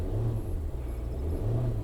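A Range Rover engine revs twice in quick succession, a loud, close low-pitched rise and fall against a steady rumble.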